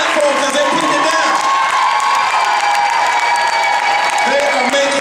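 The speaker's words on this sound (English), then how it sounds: "Y'all better clap for the third ladies one more time" An audience claps, cheers and whoops for performers in a loud, sustained wave of crowd noise, with a voice shouting over the applause.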